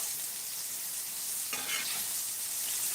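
Mushrooms fry in oil with a steady, full hiss of sizzling, and a brief stir or crackle surge midway, no voices.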